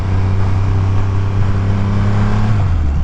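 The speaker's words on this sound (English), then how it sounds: "But what a sound that comes from this engine." Triumph Rocket 3 GT motorcycle engine, a deep, beefy, mean-sounding rumble heard up close, holding steady and then dropping in pitch toward the end, with no talking.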